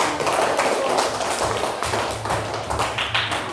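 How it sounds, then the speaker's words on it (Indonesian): A room full of people applauds steadily for a presenting group at an Indonesian school or community event, dense overlapping hand claps sustained evenly throughout with no talk over it. "Beri tepuk tangan dulu buat"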